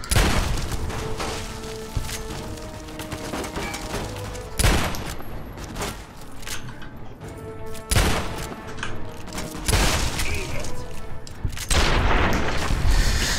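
A double-barrelled shotgun in Fallout New Vegas fires both barrels at once, with several loud, heavy blasts spaced a few seconds apart over a constant dense roar of in-game noise.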